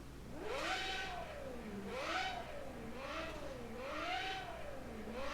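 A high-revving V12 racing engine in the video game Automobilista 2 wails continuously, its pitch rising and falling through repeated gear shifts and accelerations, fairly loud and steady.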